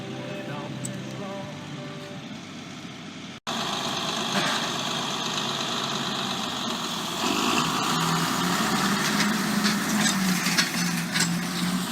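A John Deere 4440 tractor pulls a JD 660 bar rake through oat straw, its engine droning steadily and loudly throughout with rattling mechanical clatter, briefly cutting out near the start before resuming fuller and busier.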